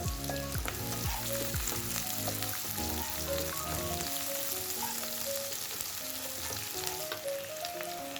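Green chillies fry and sizzle steadily in a hot pan for a dried seer fish curry, with onions already in, a continuous close crackle under faint music.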